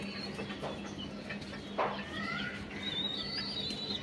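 Birds in a pigeon loft, with soft chirps and a couple of thin high calls against a steady low hum, plus a brief rustle near the middle.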